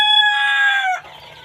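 An Egyptian Fayoumi hen kept for egg laying gives a single loud, close, drawn-out call lasting about a second, followed by faint scratchy background sounds.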